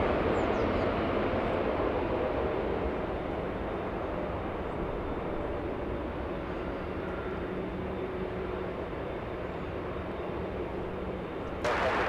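Lufthansa airliner at Los Angeles International Airport, a steady broadband engine roar holding at even loudness throughout, with no talk over it.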